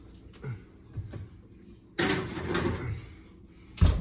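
An oven door handled while boneless pork ribs coated in barbecue sauce go back in: soft clunks and rattles, a longer scraping slide, then a close, sharp closing thump at the end.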